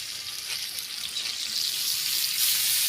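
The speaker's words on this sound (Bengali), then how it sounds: "আজকে আমি কীভাবে মাছ ফ্রাই করছি" Fish fries in hot oil in a pan, cooked Pakistani style, with a steady, bright sizzle and crackle that grows slightly louder toward the end, close and continuous with no talking.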